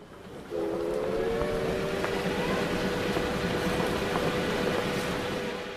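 A steam train whistle sounds as an effect in a Korean radio drama, marking a train arrival in Seoul; one long steady near blast holds for about five seconds over a dense hiss of surrounding noise.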